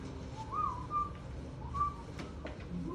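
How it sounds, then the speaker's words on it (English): Short human whistles in an English class, a couple of rising notes repeated over a murmuring room background, moderately close. "Please don't whistle."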